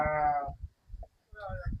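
A goat at a village goat market in Punjab gives one drawn-out, wavering bleat up close, then a voice follows after a short pause.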